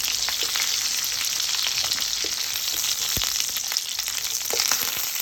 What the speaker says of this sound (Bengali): চিংড়িগুলোকে ভালো করে ফ্রাই করে নিচ্ছে